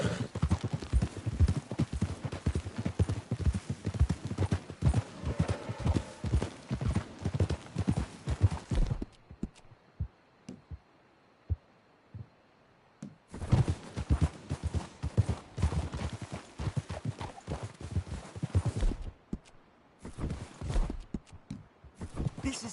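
Hooves clip-clopping steadily on hard ground as horses move along, loud and close, pausing briefly near the middle before the rhythmic clatter resumes.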